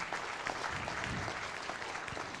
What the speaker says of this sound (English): please give the both of two the huge applause again